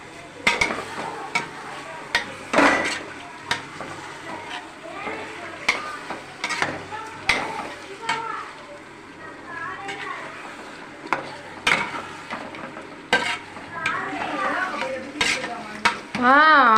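Chicken biryani ingredients sauté in a pot while a spoon repeatedly scrapes and knocks against the metal, sharp clacks over a steady sizzle, with voices in the background.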